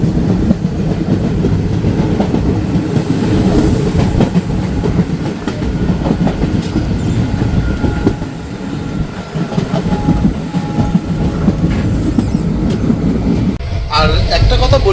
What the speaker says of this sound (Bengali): ট্রেন আমাদের এখন নবদ্বীপ ধামের দিকে যাচ্ছে